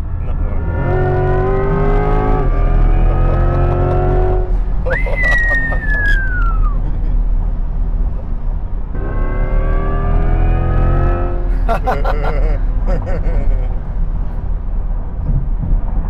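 A Chevrolet Corvette C8 E-Ray accelerates hard, its engine note rising in two strong pulls separated by a quieter stretch, with a high whine sweeping upward in between and a steady low rumble underneath.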